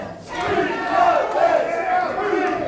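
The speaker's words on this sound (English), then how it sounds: "this crowd is going absolutely berserk for Jermaine Johnson" Wrestling crowd at an IZW Adrenaline independent show roaring and cheering wildly for a returning wrestler, a loud, sustained wall of voices with shouts rising and swelling throughout.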